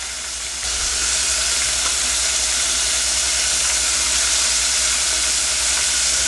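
Bahamian cracked conch sizzles steadily in hot frying oil, a dense continuous hiss and crackle that swells slightly after the first moment and holds loud and close throughout, with no talking.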